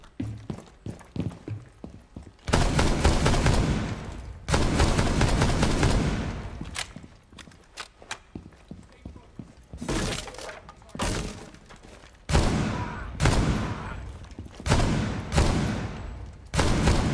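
Gunfire from a weapon in a video game, loud bursts of rapid shots separated by short pauses, repeating through the stretch, with no talk over them.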